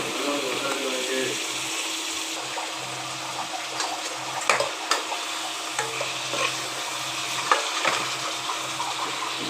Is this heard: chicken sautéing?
yes